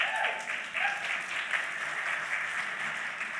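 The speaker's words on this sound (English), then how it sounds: "yes, you should applaud Deanna, her work in the city." An audience applauds a comic arts festival organizer at an opening-night literary event, a dense sustained clapping that holds steady and fairly loud throughout, with a brief voice near the start.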